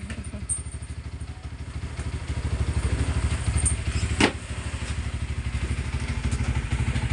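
A motorcycle engine runs in a steady, rapid low putter for the whole stretch, fairly close, with a brief sharp knock partway through, on a rainy day.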